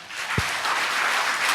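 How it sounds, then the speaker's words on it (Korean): Audience applause at a Buddhist monk's Q&A dharma talk, a steady dense patter of many hands clapping throughout, with a brief low thump near the start. "박수."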